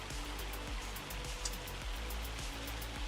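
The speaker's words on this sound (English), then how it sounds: "Oh, it's just this hail." Hail falling in the Farming Simulator 25 video game, a dense, steady patter like heavy rain on a surface, continuous and fairly faint, with a low rumble underneath.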